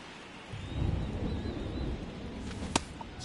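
Rain falls on the stadium during Game 1 of the 2023 NLDS baseball playoffs, a steady, soft hiss that swells after the first half second, with a single sharp crack near the end.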